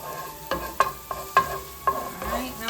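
Food sizzles and spatters in a pan on a power burner while a utensil stirs it, with a series of sharp scraping knocks over a steady frying hiss, close and clear.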